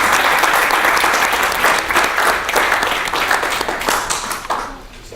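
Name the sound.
audience applause for a panel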